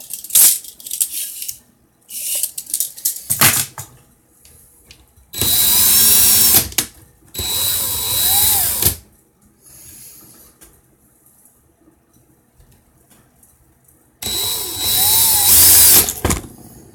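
Power drill whirring in several separate bursts of a second or two each, loud and close, with pitch changes as it loads up, between stretches of near silence and faint handling clatter.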